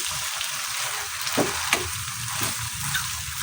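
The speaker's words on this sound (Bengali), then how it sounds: "আর পাস্তা হচ্ছে মিক্স করে নিব।" Pasta being stirred in a frying pan gives a continuous close-up sizzle broken by a few soft scraping and knocking strokes of the spoon.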